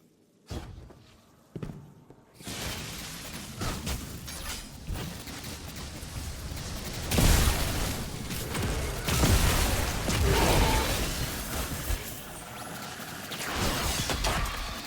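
Explosions in Destiny 2 on Nessus: after a few isolated sharp bangs, a dense run of crashing blasts and clattering impacts builds, with louder bursts around the middle and continued rumbling detonations to the end.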